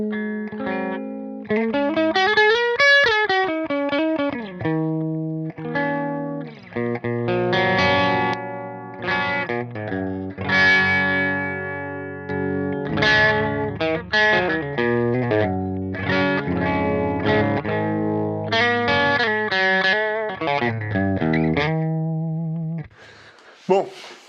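Electric guitar played with a clean tone through a Softube Marshall JCM 800 amp simulator plugin, a continuous run of picked chords and single-note lines with chorus-like shimmer and light reverb, steady and close, ending in a brief pause and a final stab.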